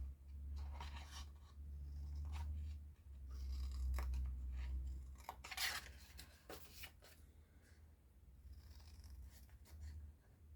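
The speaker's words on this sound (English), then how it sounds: "but we're just going to cut up to them." Scissors snipping through paper or card while a small gift box is made, several soft close cuts with rustling handling in between, faint and without talk.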